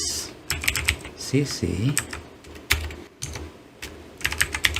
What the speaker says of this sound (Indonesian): di sini baru kita ketikkan rumusnya